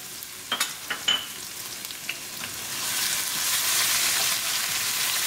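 Ginger and garlic hit hot olive oil with cumin and mustard seeds, starting with a few quick clicks and taps before a loud, even sizzle swells and holds.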